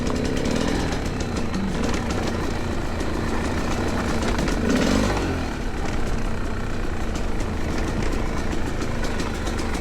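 A Fantic XE300 dirt bike engine revs hard while riding, a loud, continuous buzzing drone with rising and falling pitch, close and steady for the whole stretch with no voices.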